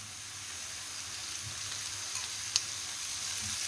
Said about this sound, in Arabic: بعد ما تحرات لينا البصلة مع الثومة غادي نضيف ليها الكفتة